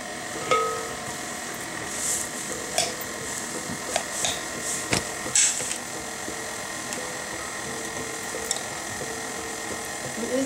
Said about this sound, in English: It's like something is tapping against something. Oh, KitchenAid, you drive me bananas.